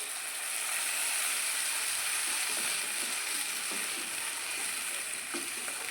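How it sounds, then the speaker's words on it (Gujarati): Spinach puree hitting a hot pan for palak khichdi, a dense continuous hiss and sizzle with faint ratcheting crackles underneath, loud and close throughout. "હવે જે આપણે આ પ્યુરી બનાવી હતી પાલકની તે ઉમેરી દઈશું"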